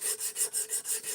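Repeated rasping strokes of an S35VN steel knife being sharpened to match its bevels at 17 degrees, about seven even back-and-forth passes, close and steady with no talk.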